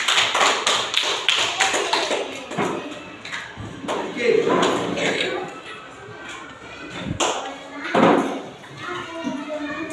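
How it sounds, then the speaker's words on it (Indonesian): Children in a classroom clap for a group of classmates, quick bursts of close, sharp hand claps mixed with kids' chatter and an adult voice. "Tepuk tangan untuk kelompok 2."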